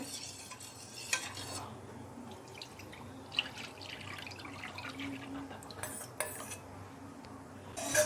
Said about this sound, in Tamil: அடுப்பை ஆன் பண்ண உடனே கிண்டிக்கிட்டே இருங்க இல்லைன்னா கட்டி விழுந்துடும்